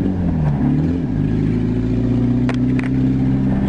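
An old, uninsured Volkswagen Rabbit pulls away in first gear, its engine droning loudly and steadily up close. The pitch climbs slightly as it revs, with a few light clattering knocks on top.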